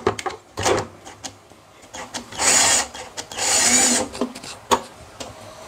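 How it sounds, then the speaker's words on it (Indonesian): Bolts being removed from the casing of a Samoto MPPT 100A solar charge controller: two whirring bursts of a powered driver, surrounded by close clicks and clacks of handling the metal case. "Jadi untuk semua baut kita lepas satu-satu."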